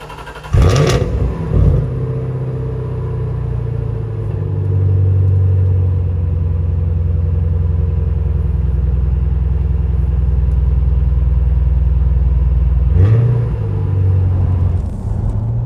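A supercharged V8 Jaguar XKR (X100) engine cranks and fires, then settles into a steady deep rumbling idle for a long stretch before a blip of revs near the end.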